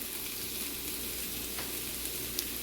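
Ginger garlic paste frying in oil in a pan with browned onion, for spicy Maharashtrian prawn tawa masala, a continuous close sizzle and crackle with a few tiny pops and no speech.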